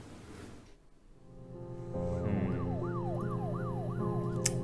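Wailing siren sound effect from the video game Her Story, a rising and falling electronic tone that starts after a quiet stretch and repeats steadily over a low hum, fairly loud and alone.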